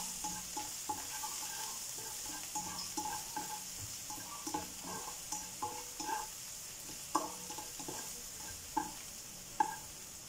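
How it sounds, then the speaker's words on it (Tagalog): Onion and garlic frying in a pan, a steady soft sizzle with repeated light stirring scrapes and occasional sharper clinks of a utensil against the pan. "Wait the onion and garlic turn into golden brown."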